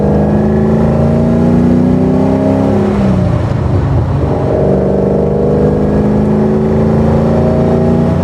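Classic Maserati carburetted V8 revving, a loud close engine note rising and falling with a sharp throttle blip midway, no talk.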